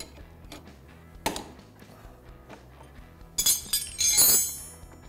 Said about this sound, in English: Flywheel pops off.